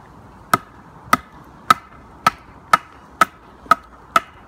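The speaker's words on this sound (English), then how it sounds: "So I'm just going to batten down this stuff into smaller stuff" A TOPS bushcraft kukri knife is batoned through wood, giving eight sharp, evenly spaced chopping knocks roughly half a second apart, close and clear with no talking.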